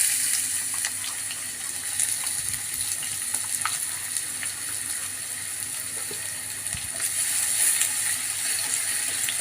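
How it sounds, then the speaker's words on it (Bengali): Onions frying in a pan for a Rajshahi-style katoyar data recipe, a steady broad sizzle running throughout with occasional soft stirring clicks, close and fairly loud, no voices. "এবার দিয়ে দেব পেঁয়াজ।"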